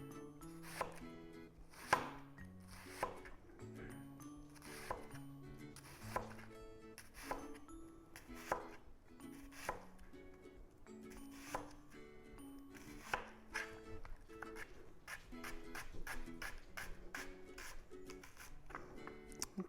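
Onions sliced with a knife on a cutting board for a vegan kale salad, close crisp chops in an uneven rhythm that speeds into rapid runs near the end, with no talk.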